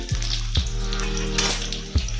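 Ginger and garlic sizzle in hot cooking oil for an Ilocano vegetable dish, a loud, close, continuous frying hiss with a few sharp knocks from a spatula or pan.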